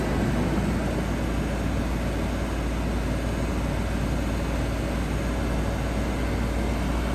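A 2006 Range Rover engine idles at a raised 2,000 RPM with the AC running, making a loud, steady, broadband roar and hum that continues evenly. No one speaks.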